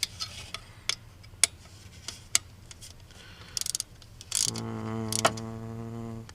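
A hand ratchet clicks in short, quick bursts while tightening bolts during a shift tube replacement on a 1994 Ford F-250, followed by a steady mechanical hum, close and fairly quiet.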